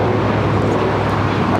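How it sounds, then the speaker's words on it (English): A Spirit Airlines Airbus A320neo rolls down the runway at LAX in bad weather, a brief, loud, continuous rumbling roar with no voices. "we do have a Spirit A320 Neo rolling down at 7 left"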